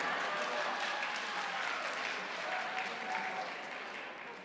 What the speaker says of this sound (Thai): เราปรบมือให้ภรรยาหน่อยดีไหมครับ